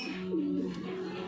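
A pigeon coos up close in a single soft, throaty warbling call rising and falling, with faint background noise around it.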